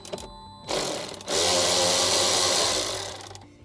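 Ratcheting 10mm socket and combo wrench working bolts to remove a speaker in a Toyota Tacoma truck; close, dense rapid clicking bursts, a short one then a longer sustained run.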